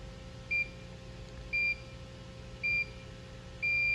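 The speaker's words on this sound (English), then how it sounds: "So when it reaches about 4 seconds, we're going to get a beep" A GF pipe welder gives short electronic beeps as it nears temperature: four evenly spaced, high-pitched tones about a second apart, the last one held longer, over a quiet background hum.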